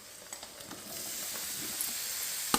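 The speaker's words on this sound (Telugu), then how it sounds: "ఇప్పుడు మనం తీసుకున్న ముక్కలు జుకినీని యాడ్ చేసేద్దాం చూడండి" Zucchini pieces dropped into a hot pan with dried red chilies, frying with a steady, close sizzle that builds and holds for a couple of seconds, with a few light clinks and no talking.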